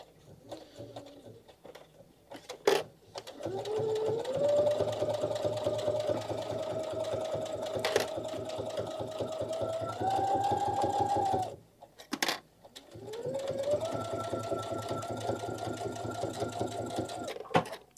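A sewing machine set to a 2.0 stitch length pieces fabric for a wine carrier, running in long steady bursts with a brief stop and restart, close and loud.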